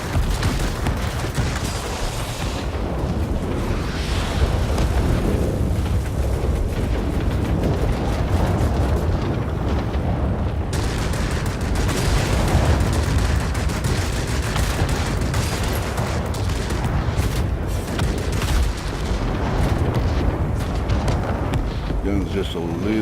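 An ME 209 fighter in World of Warplanes fires its guns in continuous dense bursts over a loud roaring engine drone, with a voice speaking throughout.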